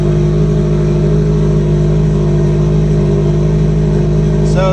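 Subaru GC8 engine idling steadily through a cold-start warm-up, a continuous close, loud low drone with no revving, ending in a brief higher chirp.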